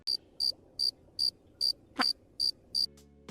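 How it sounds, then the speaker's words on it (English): Crickets chirp in eight evenly spaced, bright pulses about every 0.4 seconds, loud and close, with no other sound around them. "It's crickets."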